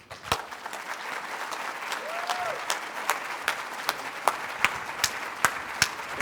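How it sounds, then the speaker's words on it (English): An audience at the close of a corporate meeting claps steadily, a dense wash of applause with a few louder individual claps standing out near the end. "give yourselves a big round of applause"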